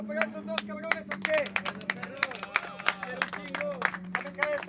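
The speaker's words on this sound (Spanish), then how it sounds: "Fuerte aplauso para esos dos cabrones, ¿o qué?" A crowd applauds the two finalists of a freestyle rap battle with quick, scattered claps that go on throughout, while voices shout and talk loudly over them close by.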